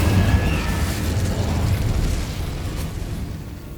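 Incendio fire spell cast in Hogwarts Legacy, a loud rushing burst of flame with a deep rumbling boom that gradually fades away.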